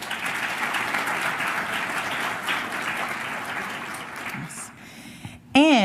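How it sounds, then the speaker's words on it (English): A crowd at a school board budget meeting gives a round of applause for the Board of Education members, steady clapping that fills the room for about four seconds and then fades out. "I'm also going to ask that we give a round of applause to our Board of Education members"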